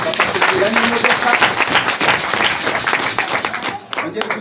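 Loud, dense church congregation applause in a Kinyarwanda sermon, steady crackling claps filling the whole stretch with voices mixed in, fading slightly near the end.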